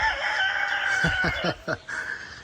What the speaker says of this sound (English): As you can hear the rooster crowing.